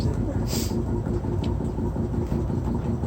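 Evening rush-hour traffic on Barış Bulvarı, a city boulevard at stopped, after-work time: a steady low rumble of idling and slow-moving cars and buses, constant and fairly loud throughout, with a voice talking over it.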